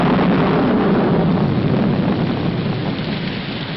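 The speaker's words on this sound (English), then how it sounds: "Put this top up. It's going to rain." Heavy rain and thunderstorm in a Charlie Chaplin film, a dense, loud downpour with rumbling low thunder, steady throughout and slowly easing toward the end.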